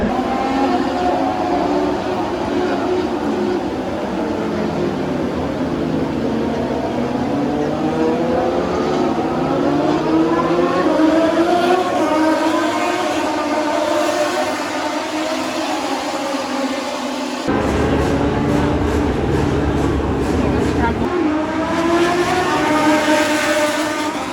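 Racing motorcycles at the Buriram circuit during a wet race, engines whining and sweeping up and down in pitch as bikes pass, a continuous loud drone with no clear pauses.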